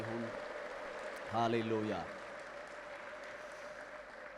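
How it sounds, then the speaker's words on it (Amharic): A church congregation claps and ululates at a low level. A short warbling ululation rises over a steady wash of crowd noise, and a voice calls out briefly. "እስኪ ለጌታ ከፍ ያለ እልልታ ጭብጨባ"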